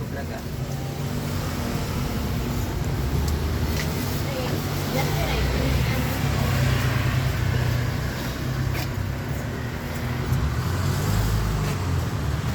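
Road traffic in Cavite, Philippines, with vehicles driving past as a loud, steady roar and rumble that never drops, and faint voices mixed underneath.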